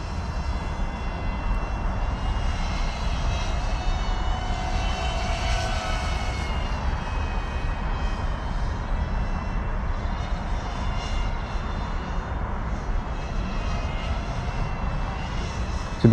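Axisflying Manta 6-inch FPV drone flying near a construction site and pylon, its motors giving a steady, continuous buzzing drone with shifting pitch as the throttle changes, loud and close throughout.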